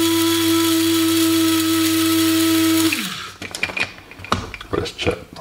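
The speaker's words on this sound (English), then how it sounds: "Give it a good shake. Do it a couple of grinds." A hand grinder first gives a loud, steady mechanical whir, then breaks into close, irregular rattling and crunching from shaking and grinding.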